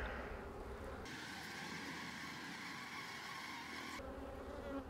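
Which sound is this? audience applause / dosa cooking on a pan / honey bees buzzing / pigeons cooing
honey bees buzzing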